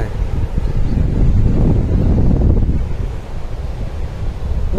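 Sea waves wash in steadily at Baga beach in Goa, a loud low rumble of surf heavily mixed with wind buffeting the microphone, swelling and easing slightly over a few seconds.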